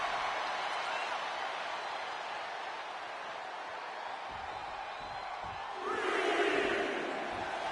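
In the WWE 2K25 wrestling game, an arena crowd roars steadily in the background, with a louder swell of cheering rising near the end.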